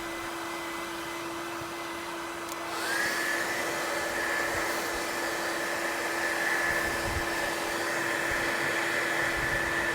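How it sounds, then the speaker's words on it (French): A hair dryer runs on battery power at a moderate setting, joining a steady electrical hum partway through and then holding a constant airy whoosh with a faint tonal whine, with no talking. "Je vais allumer le sèche-cheveux,"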